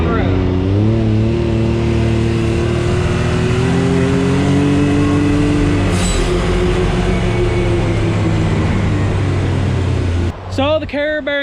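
BMW X3 with a newly replaced carrier bearing driving down the road, loud steady engine and road drone rising as it accelerates, with a brief voice near the end.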